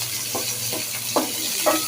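Dried Loitta fish frying with garlic in a pan, a continuous close sizzle with four soft, regular stirring scrapes.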